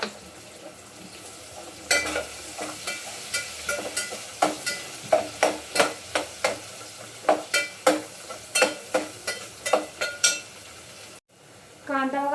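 Onions browning in oil for biryani are stirred briskly, with a rapid run of scraping spatula strokes over a continuous sizzle, close and fairly loud, then a short pause.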